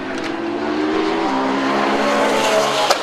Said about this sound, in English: Now, here is the 28 car, the 458 of Martin Short, passing Richard Chamberlain in the Lotus Elise.